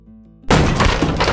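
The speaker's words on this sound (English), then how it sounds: "Grendel's mother smashed down the door of Heorot." A heavy wooden hall door smashed down with a sudden loud crash and splintering burst after a quiet tonal lead-in, the noisy impact ringing on to the end.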